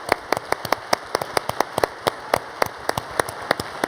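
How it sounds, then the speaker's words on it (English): Audience applause at a BRICS special session of the One Young World Summit 2012, a steady run of sharp individual claps with no voices, moderately loud and continuous throughout. "A big round of applause for the BRICS."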